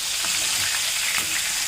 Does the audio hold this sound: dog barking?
no